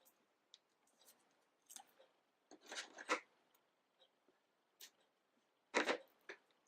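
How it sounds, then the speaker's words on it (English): Scissors cut a strip from a sheet of card stock with faint, sparse snips and clicks, a few louder cuts clustered together, close but quiet in a still room. "So I'm just going to cut a strip of this off."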